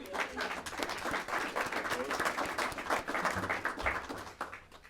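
An audience at a school district board meeting claps for a student, a dense, steady patter of hands that lasts about five seconds with no break.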